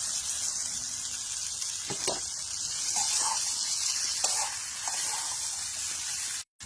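Fried potatoes and broad beans sizzle in a pan, a steady bright hiss with a few soft stirring knocks, close and continuous with no talk, cutting off briefly near the end.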